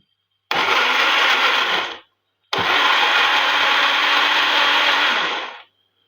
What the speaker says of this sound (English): actually going to blend all the pepper mix